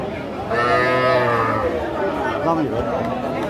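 A calf at a weekly cattle market moos in one long, loud call near the start, with a busy crowd chattering around it and people talking throughout.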